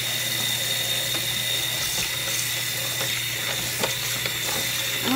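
Water pours steadily into a bottle with ice in a continuous soft splash and hiss, with a low hum underneath and no voices.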